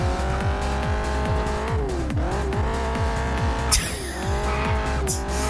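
Roaring car engines in the demolition-derby driving game Test Drive: Eve of Destruction, loud and continuous with repeated rising revs, tire squeals and skids, plus a sharp crash burst near the end.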